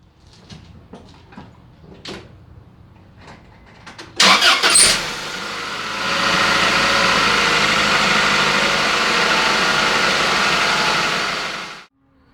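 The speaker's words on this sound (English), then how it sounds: "Alright, there you go, fired right up." Faint clicks and knocks lead into a Honda car engine cranking with a sharp burst, then catching and settling into a steady, even idle for several seconds before it cuts off; no voices.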